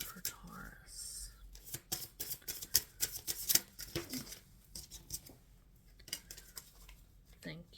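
Tarot cards being shuffled in a reading, with a dense run of quick crisp riffling and slapping bursts, close and fairly faint, while a voice murmurs softly in places.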